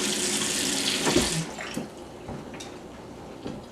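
Water gushes from a kitchen tap into a pot for a sauce, a close, steady rushing stream that softens and turns thinner midway, with faint clinks, and no voices.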